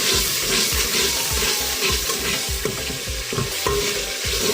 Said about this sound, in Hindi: थोड़ा थोड़ा पानी का छींटा इसको लगाते जाएंगे